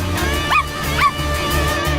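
A small cartoon dog gives two short, high yelping whimpers about half a second apart over a steady background music bed.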